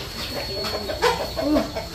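A chicken clucks a few times close by, short rising calls over faint background noise with no speech.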